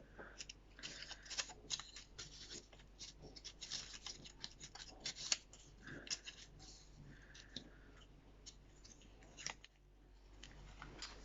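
Scissors snip paper in a quiet room, irregular close crisp cuts and rustles of a small paper pad, with no talking.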